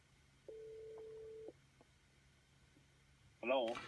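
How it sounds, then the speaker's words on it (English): A single electronic ring tone of a phone call plays through car speakers for about a second, then fades to quiet hum, before a burst of other sound at the end. "The phone is coming through the car speakers."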